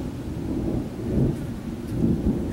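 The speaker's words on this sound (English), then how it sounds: "And yes, that was thunder." Thunder rolls in a low, continuous rumble that swells and fades over a few seconds, with a soft hiss of rain and no voices, on a hot day.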